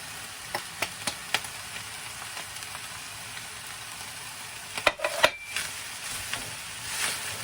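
Onions frying in oil in a pan while prepping seafood ogbono: a steady soft sizzle throughout, with scattered stirring clicks and a brief louder cluster of scrapes near the end.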